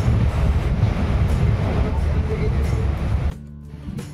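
Low rumbling and rattling of a moving train, steady and close, fading abruptly near the end.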